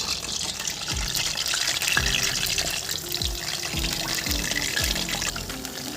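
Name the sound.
fish pieces frying in hot oil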